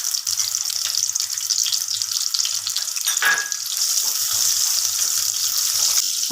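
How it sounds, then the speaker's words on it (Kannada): A cup of onions frying in hot oil for a chicken gravy, a steady loud hiss and sizzle close by, with faint stirring scrapes. "ಫ್ರೈಗೆ ಮೊದಲು ಎಣ್ಣೆ, ನಂತರ ಈರುಳ್ಳಿ 1 ಕಪ್,"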